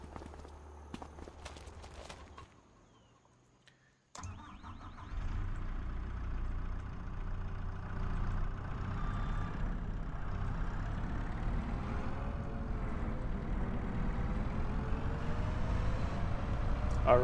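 In Farming Simulator 25, a skid steer's engine rumbles low and steady after a brief quiet gap, with clattering movement sounds layered on top, a continuous mechanical drone that rises slightly toward the end.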